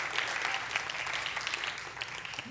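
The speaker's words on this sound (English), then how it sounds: "Give it up for bacon." A church audience applauds and cheers together, a steady dense clapping that stays loud and fairly even throughout before easing slightly at the end.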